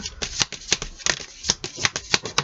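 Oracle cards being shuffled and drawn by hand, a rapid run of crisp riffling flicks in an irregular rhythm, close and fairly quiet.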